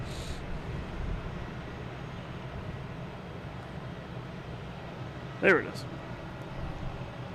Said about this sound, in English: Next to take off is a Tradewinds Aviation, a Pilatus PC-12.